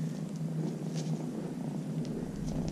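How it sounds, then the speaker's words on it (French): Newton, a small kitten, purring softly up close, a faint steady rhythmic rumble continuing alone for a few seconds. "Ceci est un chat traumatisé."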